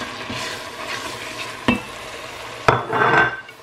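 A spoon stirs curry powder, thyme and prawn powder into a sizzling pot, with soft scraping and frying hiss punctuated by two sharp utensil knocks against the pot.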